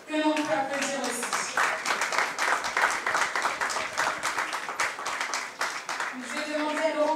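An audience at a jazz festival press conference applauds in a dense, sustained burst of clapping, loud and continuous, with voices briefly heard at the start and end.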